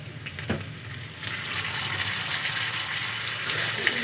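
Potatoes and onions fry together in oil as ginger paste is added, a loud steady sizzle that thickens after a thump, with some stirring and no voices.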